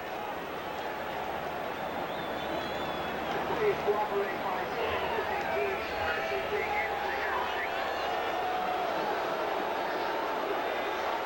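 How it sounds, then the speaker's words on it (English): A loud, steady roar from a packed stadium crowd at a 1985 Iowa college football game against Michigan State, swelling slightly midway, with a commentator talking over the din. "because of the crowd sound, McAllister can't hear, so he wisely steps away from the line of scrimmage"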